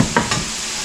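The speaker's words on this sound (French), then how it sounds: "Fait qu'on va mettre l'ail." Garlic going into a pan of frying onions and mushrooms, a steady close sizzle with two brief stirring bursts near the start, no voices.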